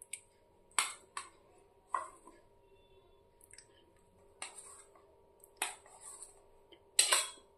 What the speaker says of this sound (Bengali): একটু পাতলা পাতলা করে কেটে নেব আমি এইভাবে।